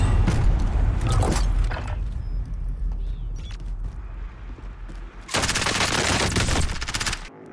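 Automatic gunfire bursts loudly in the Call of Duty: Warzone shooter game, a rapid rattling spray at the start and another dense volley near the end, with quieter game ambience between.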